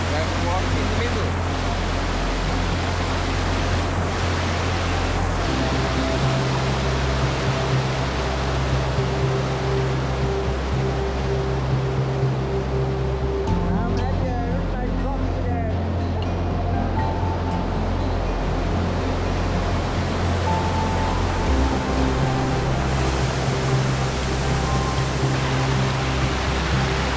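A river with waterfalls in the Montes de Oca nature area of La Guajira, Colombia, rushing as a steady, dense roar throughout with no pauses, close and continuous.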